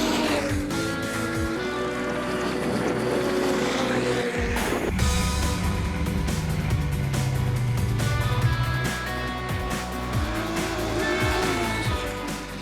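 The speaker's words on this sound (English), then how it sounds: "The high torque, fast cornering Yamaha Apex always leaves us smiling." A Yamaha Apex snowmobile, a high-torque machine, running along snowy trails, its engine droning loudly and shifting pitch as it revs and eases, with a sharp burst near the middle before it settles into a steady roar.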